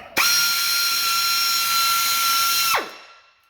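A power drill bores a hole in an aftermarket side skirt on a 1999–2004 car. It gives one continuous high, close whine of about two and a half seconds that starts and stops abruptly.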